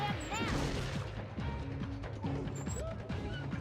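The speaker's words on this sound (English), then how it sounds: "Make sure to alternate between destroying the dam and destroying the cannon." Repeated crashes and smashing impacts as a dam and cannon are destroyed in the Madagascar: Escape 2 Africa video game on PS2, with burst-like hits over game music and effects.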